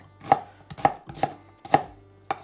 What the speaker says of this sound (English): So we will rough chop the onion, medium-sized onion